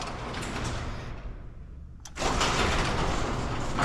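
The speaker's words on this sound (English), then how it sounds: "You have to bounce the door up and down" A faulty garage door that needs bouncing to close fully rumbles along its track and goes briefly quiet. Then it starts again with a louder, steady mechanical whirr and rattle.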